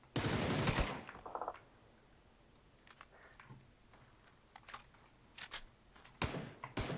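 Video game gunfire from a mutant-and-loot shooter: a loud rapid automatic burst opens, followed by scattered quieter shots and clicks, with further sharp bursts near the end.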